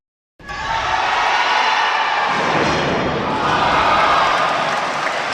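A bowling crowd at the 2011 Teen Masters high school boys championship erupts after a strike, a loud sudden roar of cheering and shouting that swells and holds steady without a break.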